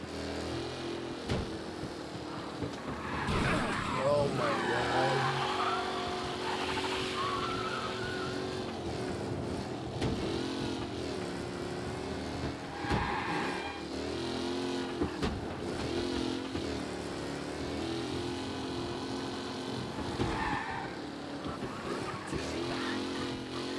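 A car engine in the video game Mafia: Definitive Edition revs and roars continuously with shifting pitch, loud and close, with occasional bursts and dips as it accelerates.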